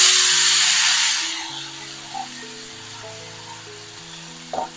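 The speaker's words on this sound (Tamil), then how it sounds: "கடுகு உளுத்தம்பருப்பு தாளிச்சுக்கலாம்." Mustard seeds, urad dal and curry leaves crackle and sizzle in hot oil, a bright loud hiss that fades after a second into a quieter simmer with a couple of small clinks, while background music plays underneath.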